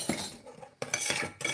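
A spoon stirs cake mixture in a bowl, giving soft, close clinks and scrapes in short repeated strokes.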